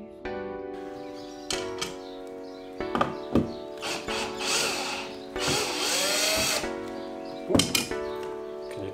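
A power drill whirs in several short bursts, rising and falling in pitch, with brief pauses and clunks between runs.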